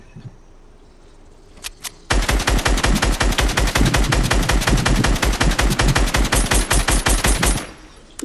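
Fortnite gunfire: a long, loud burst of rapid automatic shots fires steadily for several seconds after two quick single shots, then stops abruptly.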